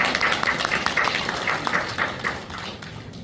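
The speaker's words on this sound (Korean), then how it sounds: "박수 주십시오" A seminar audience applauds at an event founding a foundation, the dense patter of many hands clapping steadily and fairly close, fading slightly toward the end with no talk over it.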